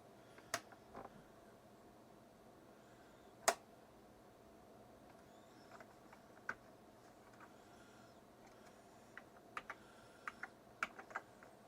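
Sparse, faint key presses on an Atari 65XE computer keyboard during a keyboard test, isolated clicks spread out with a quick cluster of taps near the end, in a quiet room.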